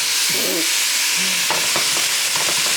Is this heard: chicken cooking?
yes